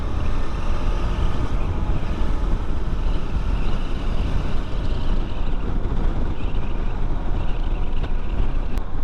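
A KTM 390 Adventure motorcycle rides at speed on a highway, heard as a steady, loud, unbroken roar of engine and rushing wind buffeting the microphone, with no voices.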